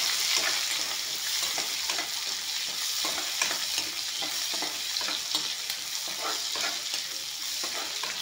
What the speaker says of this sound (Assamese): অলপমান ভালকৈ ভাজি ল'ম।